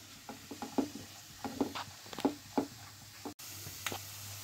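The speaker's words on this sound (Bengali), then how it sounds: "এটা একটু বাটারে রোস্ট করে নেবো, ভেজে নেবো হালকা করে" Green peas and methi leaves roasting in butter in a kadai pan give a quiet, uneven sizzle with small crackles and a few scraping stirs, steady and fairly faint, with no voices.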